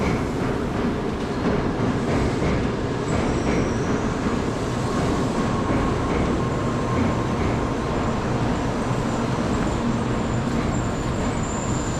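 Inside a running Shinkansen bullet train in Japan, a continuous dense rumble and rushing hiss fills the cabin steadily, with faint rattles and no clear talking.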